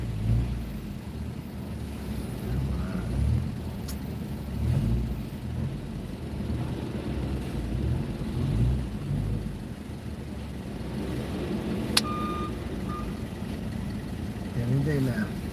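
Cars idle and creep along in New York City traffic, a low steady engine rumble with soft swells and a faint distant horn-like tone, heard from inside a vehicle with no talking.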